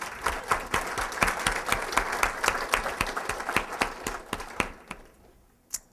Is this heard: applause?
yes